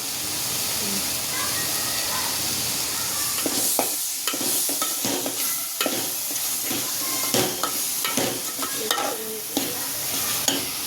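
Garam masala being stirred and fried in oil in a pan for a village-style Marathi egg curry, with a continuous close sizzle and hiss broken by repeated scraping stirs of a spoon.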